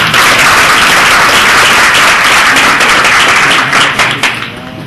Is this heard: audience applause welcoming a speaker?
yes